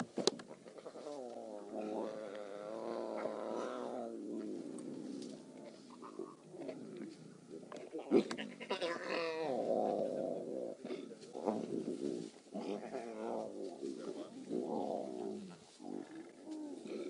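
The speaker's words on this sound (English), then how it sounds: "Listen to that sound. Those are cubs growling." Lion cubs of the Styx Pride growl on a fresh kill during a safari, low rumbling growls and moaning calls recurring through the whole stretch, moderately close and fairly faint against outdoor background.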